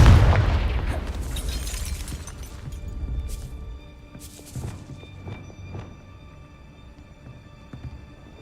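A Confringo spell explosion in a Harry Potter video game, one loud booming blast at the start that rumbles and decays over several seconds, followed by scattered sharp clanks and metallic taps as things settle.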